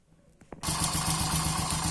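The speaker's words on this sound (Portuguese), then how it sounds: "vou dar uma pausa aqui para ligar a moto para mostrar a vocês como é que ela tá" A Honda Pop motorcycle engine fires up after a few faint clicks and settles straight into a loud, close, steady running note with a rapid pulsing rhythm, with no voices over it.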